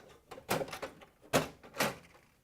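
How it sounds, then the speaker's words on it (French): The main door of a terminal kiosk is refitted onto its cart, giving a series of close clunks and sliding knocks, with three sharper hits standing out. "Remise en place de la porte principale sur le chariot."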